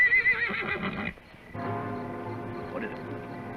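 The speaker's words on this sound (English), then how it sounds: "Fred, try to keep the horses quiet." A horse gives a loud, shrill whinny up close, followed by low rumbling and shuffling noises afterward.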